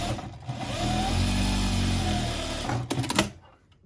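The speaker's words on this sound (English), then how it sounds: "So you sew up your side seam." Sewing machine stitching the side seam of a knitted fingerless glove, a steady close mechanical whir held for a few seconds, then stopping with a couple of short clunks.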